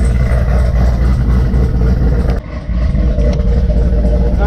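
Vehicle engine exhaust running steadily nearby, a low rumbling drone with a slight dip midway, loud and continuous with no talk.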